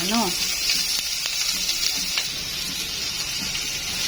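Garlic and onion sizzle together in a pan for sautéed chayote. A steady, close hiss runs throughout, and a voice is heard briefly at the start.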